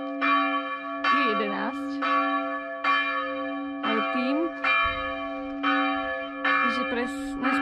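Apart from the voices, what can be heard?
church bells ringing in Zavratnica cove, Croatia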